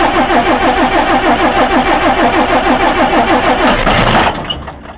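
A 1955 Mercedes L6600 truck's engine cranks with a rapid, rhythmic starter chug, loud and close, then stops abruptly into a fading low rumble.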